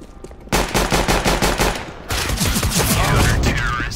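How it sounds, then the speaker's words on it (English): A Glock pistol fires in a competitive match of the video game CS:GO. Loud, rapid shots come in a fast rhythmic burst, break off briefly, then resume in a dense volley with game noise underneath. "I didn't think I had that many bullets left in this Glock."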